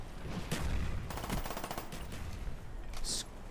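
Automatic gunfire from an online shooter video game, rapid rattling bursts of shots mixed with a dense, loud battle backdrop.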